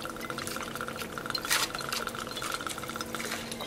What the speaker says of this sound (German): Und dann etwa 6 Cl von dem Gin dazugeben.